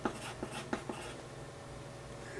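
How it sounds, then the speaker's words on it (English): Pen writing a list by hand on paper, a few quick close scratchy strokes at the start followed by quieter faint scribbling over a low room hum, no talking. "let me go ahead and write it down here"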